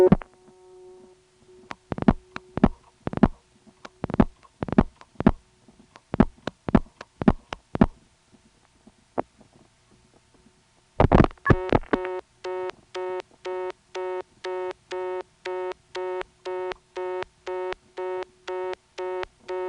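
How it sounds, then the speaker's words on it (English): Telephone exchange equipment in Georgia in April 1977 gives an MF tone, then relays click in irregular bursts before a steady busy signal pulses on and off at an even rhythm, clear and close. "that's when relays here kick in to give us a busy signal."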